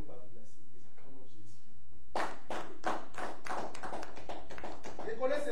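Congregation clapping in a church service to acclaim Jesus, a steady run of rhythmic handclaps starting after a moment of quiet, close and fairly loud with voices underneath.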